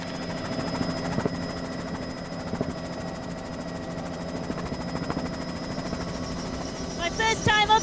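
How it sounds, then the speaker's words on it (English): A helicopter flies over Mexico City with a steady, droning rotor and engine roar heard from inside the cabin, continuous and loud throughout. "My first time up in a helicopter."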